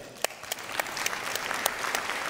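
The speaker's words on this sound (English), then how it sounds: "round of applause, right?" Audience applause at a Brain Bar talk with a young recycling prodigy: a short burst of clapping from the crowd, fairly soft and even, with a few sharper claps standing out.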